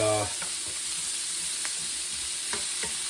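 Vegetables including celery brown in a pan for braised beef short ribs, making a soft steady sizzle with a few light scraping stirs, close and fairly quiet.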